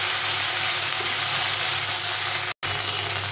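Ginger and cumin paste with two green chillies frying in hot oil, a steady, dense sizzle with faint stirring throughout, briefly cut by a sharp dropout near the end.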